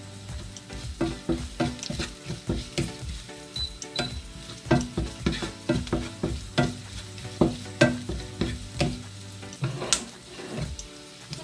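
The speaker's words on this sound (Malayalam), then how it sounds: "കുറച്ച് കറിവേപ്പില ഇട്ട് കൊടുക്കാം" Curry leaves sizzling in hot oil in a pan, a continuous close frying crackle punctuated by a steady rhythm of sharp stirring knocks and scrapes.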